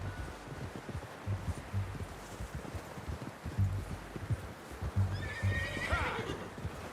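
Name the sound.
horse in Red Dead Redemption 2 video game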